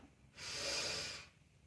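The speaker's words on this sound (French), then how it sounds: "Inspirez par le nez en serrant les poings." A single deep, steady inhalation through the nose during a relaxation breathing exercise, close and soft, lasting about a second in an otherwise quiet room.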